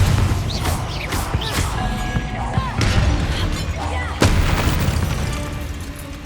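In Hogwarts Legacy, a Confringo spell explodes with a booming blast among ongoing spell effects and crashes. A heavier impact lands partway through, and the rumbling holds at a fairly loud, even level.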